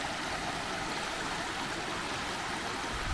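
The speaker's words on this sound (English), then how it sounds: "There's the river coming through" Steady river water rushing past stepping stones along a Peak District dale, a continuous broadband flowing hiss close by, even and unbroken throughout with no talk.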